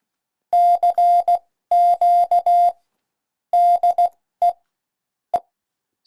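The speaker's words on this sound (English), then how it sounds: "The Morse code, let's check that one out." Computer-generated Morse code sends a steady mid-pitched tone in clipped groups of short and long beeps separated by brief pauses, ending with a couple of isolated blips.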